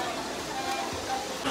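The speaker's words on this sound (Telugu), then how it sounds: "శ్రీ కపిలేశ్వర స్వామి టెంపుల్లో వాటర్ ఫాల్ ఇది" Waterfall at the Sri Kapileswara Swamy temple near Tirupati, with water falling from the hill above, a steady broadband rush heard close and continuous through the short moment.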